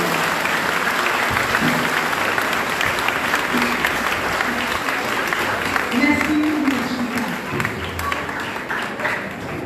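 A church congregation at the parish of Saint-Hubert in Ennery applauds warmly, a dense and steady wash of clapping that stays loud throughout. Voices and a faint sung or spoken tone drift underneath.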